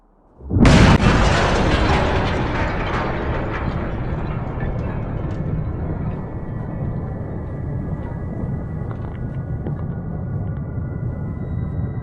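A loud explosion bursts in from near silence in a hyper-realistic digital still life of a huge flower bouquet in a hooped wooden barrel, then leaves a long, dense rumbling roar that stays steady without voices.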